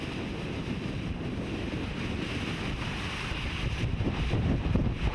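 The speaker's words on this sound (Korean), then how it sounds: "바위 틈새로 쉴 새 없이 파도가 넘나들며 바위를 조각하고 있다." Waves wash continuously through gaps between weathered coastal rocks on a rocky shore, a steady broadband rush and churn with wind buffeting the microphone, no voices.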